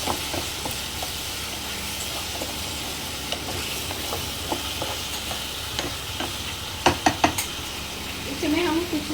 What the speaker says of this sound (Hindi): इसी में टमाटर, पीछे हुए टमाटर डालूंगी। थोड़ी मिक्स करेंगे।